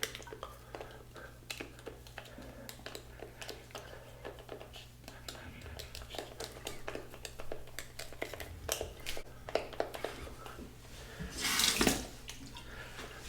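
Cold tap water runs over a shave stick held under the faucet, a faint steady stream broken by small knocks and handling clicks, with a brief louder gush near the end and no talking.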